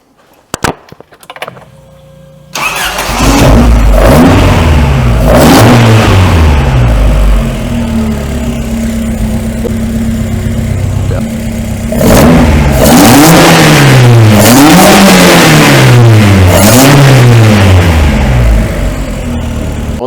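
A 1980s Vauxhall Chevette HSX in a workshop, its engine cranking and catching after a few clicks, then held at a loud close idle before several sharp rising-and-falling revs, with no talk over it.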